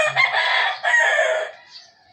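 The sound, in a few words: chicken or rooster crowing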